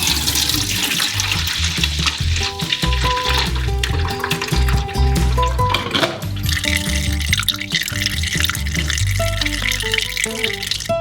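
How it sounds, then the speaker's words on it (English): Orange juice pours and splashes steadily into a bucket, with a rattling, dripping texture as it runs through a sieve; no voices. "You can pour through a sieve into a bucket."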